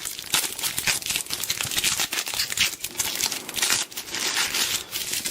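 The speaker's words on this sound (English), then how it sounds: "This is particularly well wrapped, so much so that I can barely get into the thing. Let's just tear it off." Tight plastic packaging wrap on a Dell Streak unboxing being torn and crinkled off by hand, a dense, continuous rustling and ripping at close range with no talk.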